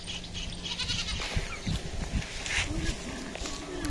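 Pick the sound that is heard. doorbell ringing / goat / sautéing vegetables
goat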